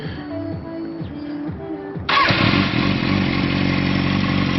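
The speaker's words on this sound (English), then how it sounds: "We'll start her up. Let's hear her exhaust." A Kawasaki ZX-6R sport motorcycle turns over and fires up, then settles into a steady, close, loud idle with a buzzy exhaust note.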